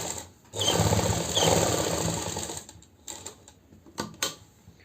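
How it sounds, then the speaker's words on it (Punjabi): A sewing machine stitches a kurti collar along buckram with a fast, steady mechanical whirr for about two seconds, then stops and gives a few short bursts and clicks. "ਇਹ ਜਿਹੜੀ ਆਪਾਂ ਸਲਾਈ ਲਾਉਣੀ ਹੈ ਇਹ ਆਪਾਂ ਬੁਕਰਮ ਦੇ ਉੱਪਰ ਨਹੀਂ ਲਾਉਣੀ ਜਮਾ ਹੀ ਬੁਕਰਮ ਦੇ ਨਾਲ ਨਾਲ ਲਾਉਣੀ ਆ"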